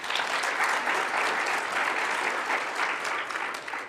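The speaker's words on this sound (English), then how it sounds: "So give yourselves a round of applause." An audience at an upstander award event breaks into warm, sustained applause, a dense wash of many hands clapping evenly throughout and fading slightly at the end, with no one speaking over it.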